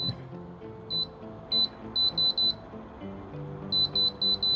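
Sharp electronic beeps from the timer button on an Uthfy 41-inch air cooler being pressed repeatedly, short bright tones in irregular quick clusters over a low background hum, close and clear.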